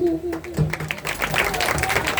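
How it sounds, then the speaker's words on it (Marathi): A crowd at a Shiv Jayanti cultural program breaks into applause after a voice finishes, a dense wash of clapping swelling in and continuing steadily to the end with voices underneath. "जोरदार टाळ्या झाल्या पाहिजे"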